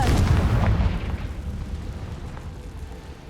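A Confringo spell explodes in Hogwarts Legacy, a loud, deep blast that bursts at once and then fades into a long, rumbling decay.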